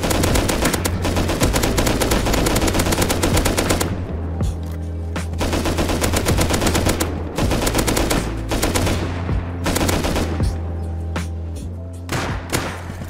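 Rapid automatic gunfire in the Rust video game rattles loud and close in long sustained bursts, briefly pausing and resuming, with little talk heard.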